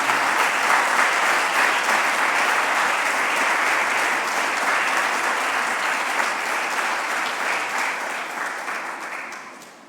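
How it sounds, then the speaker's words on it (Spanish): A church congregation applauds in a long, dense burst of clapping that holds steady and then slowly fades toward the end. "Dale un aplauso grande a este Rey."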